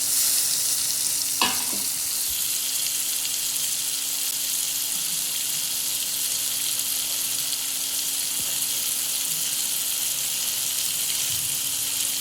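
Tomatoes with salt sautéing in a pan for a chutney, a steady soft sizzle running throughout, with a brief scrape or clink near the start and a faint hum underneath.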